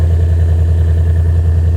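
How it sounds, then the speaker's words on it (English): A Ford Mustang engine with a Valvetronic exhaust idles steadily and loudly up close just after a cold start, a deep continuous rumble with no voices. "I know it's still a little loud because I just started it"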